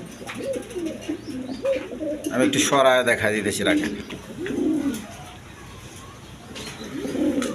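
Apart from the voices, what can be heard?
pigeons cooing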